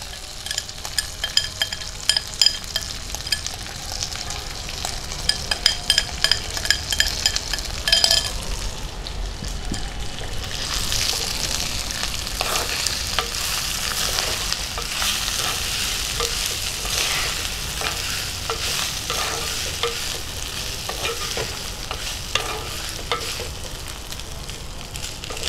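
Rice pre-mixed with salt, ghee, ginger paste and garam masala sizzles steadily in a pan while being stirred, with scraping and occasional clinks of the utensil throughout, close and continuous with no talk.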